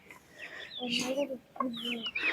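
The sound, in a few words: chicks eating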